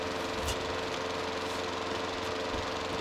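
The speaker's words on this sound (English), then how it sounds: "Oh, it's the lawnmower again." An engine runs steadily and continuously at an even, fairly loud level, fitting a lawnmower running outside, and no voices are heard.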